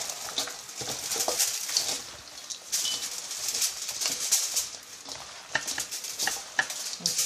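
Chicken is tossed and mixed by hand with herbs for Lao steamed chicken in banana leaf, giving a soft, continuous wet squelching and rustling close up, with no talking.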